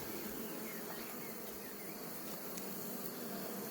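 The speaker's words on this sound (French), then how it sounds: "Mais voilà le gigantesque essaim qui était là." A huge swarm of bees being vacuumed up after hours of work, heard as a dense, steady insect buzz that blends into a continuous hiss at low level, with no talking.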